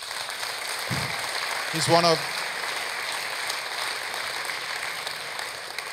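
Steady applause from a crowd at the ChefAlps 2014 chef conference fills the whole stretch, with a voice briefly speaking over it.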